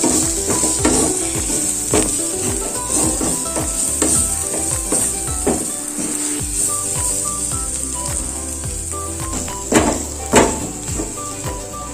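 Egg puff masala filling stirred in a pan with garam masala, pepper powder and salt: a steady close sizzle of frying with repeated scraping and clinking strokes of the spoon throughout, a couple of louder knocks near the end.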